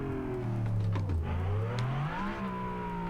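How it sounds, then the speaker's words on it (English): A turbocharged car engine revs slowly, its tone dipping then climbing gradually and holding a higher steady note, a continuous close, smooth rise in pitch. "This thing revs so glacially slow."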